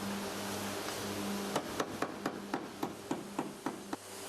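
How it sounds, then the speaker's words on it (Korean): Repeated hammer blows on sheet steel during car body panel repair and welding, about ten evenly spaced metallic strikes over a steady workshop hum, with no talk. "용접과 망치질을 반복하면서 철판을 평평하게 펴면서 붙여줘야 표면이 깔끔하게 마무리된다고 하네요"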